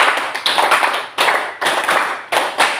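A classroom group claps in rhythmic bursts as an exercise, with sharp clusters of claps repeating about every half second and separated by short pauses, loud and close.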